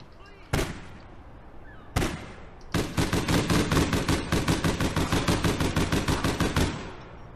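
Gunfire in the online game APB Reloaded: two sharp single shots, then a long, loud, steady burst of rapid automatic fire, close and clear.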